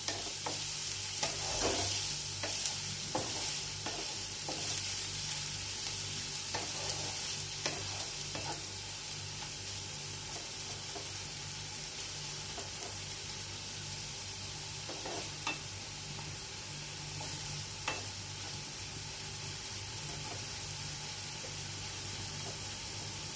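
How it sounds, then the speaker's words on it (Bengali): Whole spices such as cardamom pods fry and sizzle in hot oil in a pan, a steady crackling hiss broken by repeated scraping stirs, close and continuous with no talking. "এটাকে আমি একটু ব্রাউন করে ভেজে নেব।"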